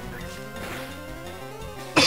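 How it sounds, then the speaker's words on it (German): A single sharp cough bursts out suddenly at the very end, loud and close after a stretch of quiet background tones from a Pokémon LeafGreen game session. "Muss nur husten."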